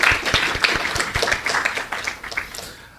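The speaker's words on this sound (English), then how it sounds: "Can you give a round of applause?" Scattered audience clapping at a college debate competition, with distinct individual hand claps spread across a steady round of applause that slowly tapers toward the end.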